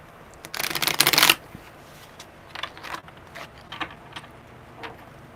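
A deck of tarot cards is shuffled in a loud, close riffle lasting about a second, followed by softer scattered card taps and slides, with no talking.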